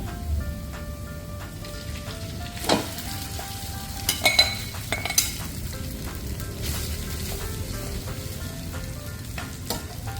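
Rice sizzles and fries in a hot pan with garlic, a steady crackling hiss with occasional clinks and scrapes of stirring, close and fairly loud with no talking.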